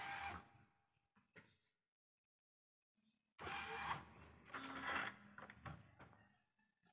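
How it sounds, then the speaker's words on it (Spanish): An Epson WorkForce 1100 inkjet printer runs its initialization cycle, with bursts of whirring and clicking from the motor and gears, separated by a quiet pause of about two seconds. "La impresora se está inicializando."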